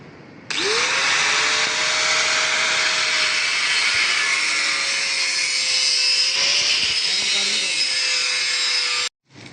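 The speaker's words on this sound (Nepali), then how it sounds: "केटाहरूले चाहिँ यहाँ वेल्डिङ र ड्रिल गरिरहेको छ" A power tool working on a compound railing, one loud steady whine that starts abruptly and holds for several seconds with a slight pitch drift before cutting off, heard close and alone.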